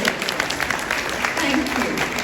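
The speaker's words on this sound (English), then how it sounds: "That's a very feeble applause." Feeble applause from a hotel lunch audience, a thin scattering of claps lasting a couple of seconds, loosely rhythmic and fairly close, with voices murmuring underneath.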